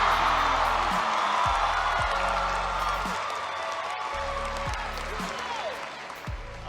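Audience applause and cheering in a large stadium crowd at a university commencement speech, a sustained wash of clapping with scattered whoops that fades slightly toward the end.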